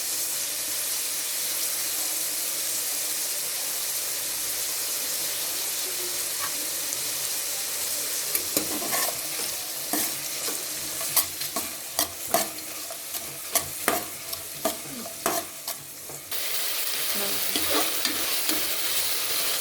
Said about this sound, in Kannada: ಲೋ ಫ್ಲೇಮಲ್ಲಿ ಈರುಳ್ಳಿ ಚೆನ್ನಾಗಿ ಬೇಯಬೇಕು.